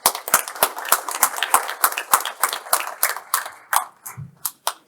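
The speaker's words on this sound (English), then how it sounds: "a round of applause for Isaac Schmidt, please." Audience clapping for a candidate at a 2022 Leamington municipal election debate, a sparse round of separate hand claps that starts fairly full and thins out into a few last scattered claps.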